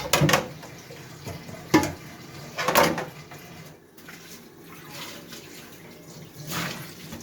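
Water splashes and runs from a kitchen tap while dishes are being washed, with several louder bursts of splashing and clinking over a steady, fairly faint trickle, no voices.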